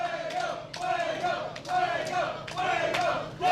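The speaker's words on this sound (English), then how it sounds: "the crowd here at episode 3 of Pro Wrestling Religion chanting the name of Fuego del Sol" Pro wrestling crowd at a live event chants a wrestler's name in a rhythmic, repeated call, loud and roomy, each chant rising and falling in regular phrases.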